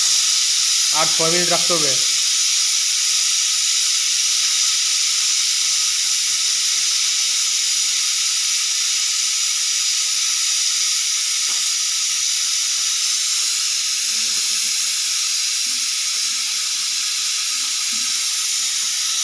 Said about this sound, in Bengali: 4 মিনিট হয়ে গেছে, একটা সিটি মারলো এখন